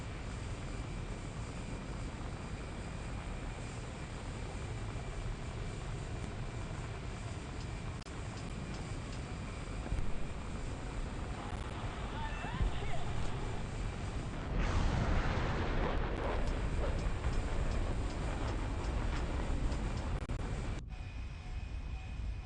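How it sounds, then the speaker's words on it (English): B-52 bomber in War Thunder with a continuous, dense aircraft engine drone; a louder swell of rumbling blasts rises midway before it cuts back to the steady engine hum. "Alright, that should be a proper carpet bomb."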